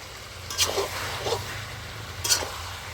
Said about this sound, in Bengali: আলুটা দিয়ে আমি কিছুক্ষণ কষিয়ে নেব